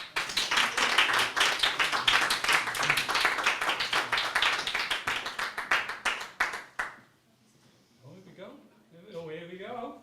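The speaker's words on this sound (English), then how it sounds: "Round of applause, please." Lively audience applause for storytelling performers at an open mic night in a pub, dense clapping for about seven seconds that cuts off abruptly, followed by people talking.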